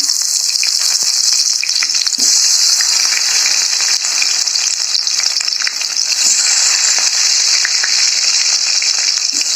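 Onions frying steadily in a pan, a dense continuous sizzle with crackles and pops, loud and close, with no voices over it.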